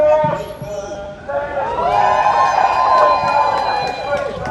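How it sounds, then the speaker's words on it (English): A crowd at an anti-racism counter-protest in Chelmsford cheers and shouts, with sustained voices swelling in the middle and carrying on at moderate distance. "Not sure what the cheering's all about."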